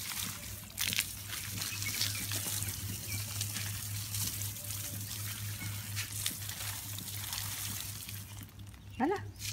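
Water pours and trickles steadily onto garden plants for several seconds over a constant low hum, with a brief splash near the end.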